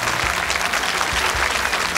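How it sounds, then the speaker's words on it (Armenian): A studio audience at a televised talent show gala claps steadily and loudly for a jury member, a dense, continuous applause with no clear voices. "Եկեք եւս ծափարենք մեկ անգամ մեր ժյուրի անդամը"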